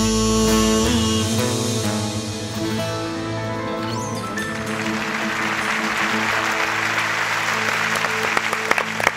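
Audience applause rises after a Turkish folk song at a türkü night, a dense and sustained clapping from a large crowd that carries through to the end, with music trailing off at the start.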